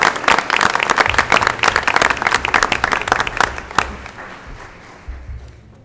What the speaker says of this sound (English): A round of applause for our staff.